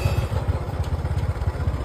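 A motorcycle engine idles nearby with a steady, pulsing low throb and light mechanical clatter, running alone without speech.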